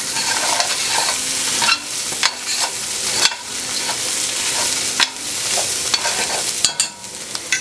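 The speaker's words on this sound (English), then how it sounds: "We're going to cook the mushrooms until they brown up." Mushrooms fry in hot oil for ramen, a steady close sizzle broken by repeated scraping strokes of stirring throughout, with no talk.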